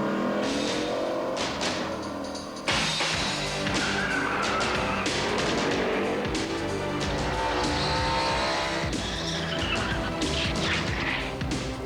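Loud, continuous roar of drag racing car engines with screeching tires and sharp bangs, a dense wall of motor noise throughout.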